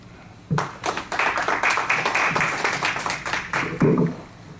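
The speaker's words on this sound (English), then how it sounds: "Let's have another big round of applause for all three of our candidates." Audience at a school board candidate forum breaks into applause, a sudden start of close, crisp hand claps that swells into several seconds of mixed clapping before fading out.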